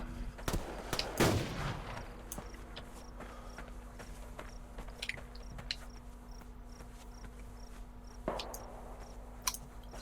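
Gunfire in the video game Survarium: a loud sharp shot near the start followed by sparser, fainter reports, over a steady insect-like ambient hum with no talking.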